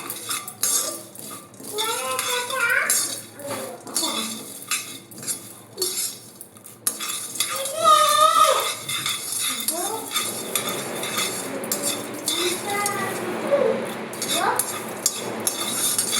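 Half a cup of roasted gram dal is dry-roasted in a pan, with a spatula scraping and clinking against the metal in irregular bursts. A voice is faintly heard at times.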